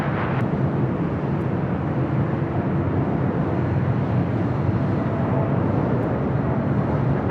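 A jet airliner landing on runway 24 right at LAX in turbulent conditions, heard as a continuous low, broad roar that holds steady throughout at moderate distance.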